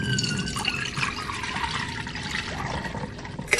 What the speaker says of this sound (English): They submerge the samples in chlorine to see if they can handle a few lengths in the pool.